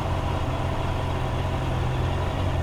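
A motorcycle engine fitted with an e-clutch runs steadily at a low, even rumble while the bike pulls away, heard close with no talking.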